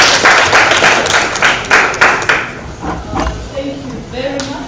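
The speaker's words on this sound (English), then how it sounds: "A lot of applause for him" Audience at a business breakfast meeting applauds a speaker, a dense burst of clapping that thins out over a few seconds, with murmuring voices underneath as it fades.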